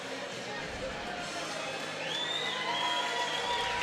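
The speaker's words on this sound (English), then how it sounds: "Nice round of applause here" Fans at a sold-out fight night in the Commerce Casino, a dense crowd cheering and clapping continuously, with a rising whistle and mixed voices in the roar.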